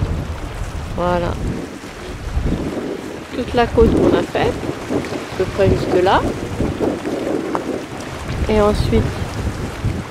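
Strong wind buffets the microphone on the Slovenian Mediterranean coast, gusting loudly and continuously beneath someone speaking in French.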